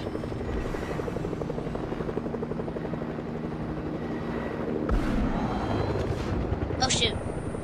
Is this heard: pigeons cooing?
no